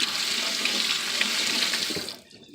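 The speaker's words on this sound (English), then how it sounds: "So let me wash my hands." Water pouring steadily from a kitchen tap into a sink while hands are washed, a loud close rushing stream that cuts off near the end.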